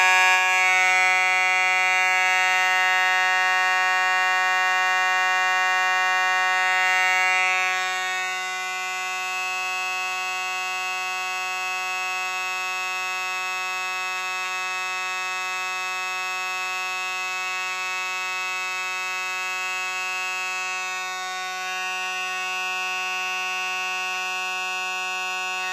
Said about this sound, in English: activate the smoke detector by just spraying some smoke